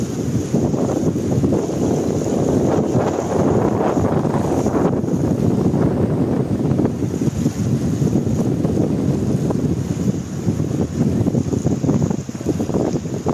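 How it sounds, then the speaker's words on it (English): Strong, continuous wind buffeting the microphone at the cruise ship terminal in Corfu, Greece, a loud low rumble that never lets up, with no voices. "It's kind of windy today."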